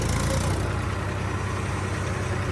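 A Massey Ferguson 2635 tractor engine runs steadily on a cold, foggy morning, a continuous close low rumble with no breaks.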